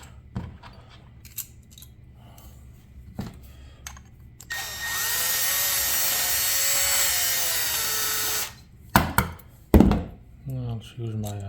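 A hinge pin is deburred with a power tool, a loud continuous grinding whir lasting about four seconds, set between scattered clicks, thumps and handling noises close by.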